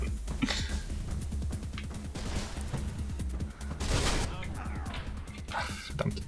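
Gunfire and crashing impacts in the video game Mirror's Edge, scattered shots and smashes over a busy game soundtrack, with people talking now and then.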